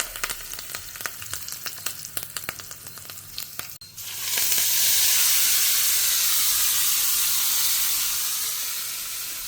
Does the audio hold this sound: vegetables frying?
yes